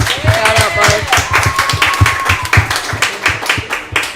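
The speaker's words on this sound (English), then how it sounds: "So can we clap that up for Mark?" A crowd claps and applauds steadily at a brisk pace, with voices mixed in and a few tones sounding over the clapping.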